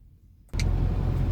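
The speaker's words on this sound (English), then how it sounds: "We're just driving over the Erskine Bridge now." A car crossing the Erskine Bridge: after half a second of near silence, a steady, fairly loud road and engine rumble cuts in abruptly and holds to the end.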